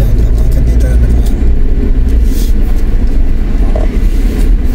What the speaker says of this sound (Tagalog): Oh, may kotse, oh.